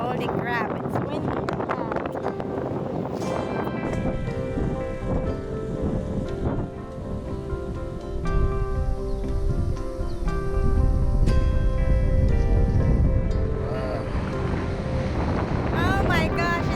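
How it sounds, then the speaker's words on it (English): Strong gusts buffet the microphone on the swaying suspension bridge at Oribi Gorge, a loud roaring rumble that surges and swells, louder near the end, with people talking over it. "Oh my gosh, it's so windy."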